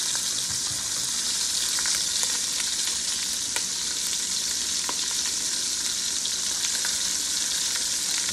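Bacon frying in a pan for Southern fried cabbage: a steady, close crackling sizzle with faint pops and stirring, holding even for the whole stretch with no voices.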